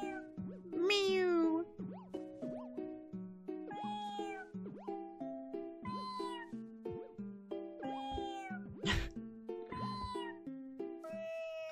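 Cartoon cats meow repeatedly in the video game So Many Kitties: a rapid series of short, bright mews, with one longer drawn-out meow near the start, over soft game sounds.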